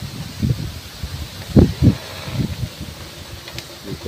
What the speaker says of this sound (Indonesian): Ini anginnya sangat kencang sekali, pemirsa.